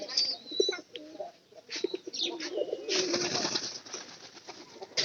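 Pigeons in a loft, among them a white one, give soft repeated coos and low murmurs close by, with faint wing rustles and occasional chirps under quiet background noise.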